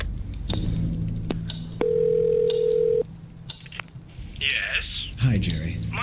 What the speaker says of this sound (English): Let's go call our best buddy pal, Jerry.